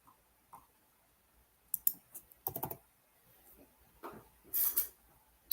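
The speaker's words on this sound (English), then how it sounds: "I'm going to write that one down" Small clicking and tapping noises come in short scattered bursts at close range, like jotting a note down, with quiet pauses between them and no voices.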